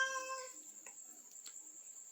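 A short cat meow opens the clip, followed by a steady high electronic whine and a few faint clicks in a quiet room.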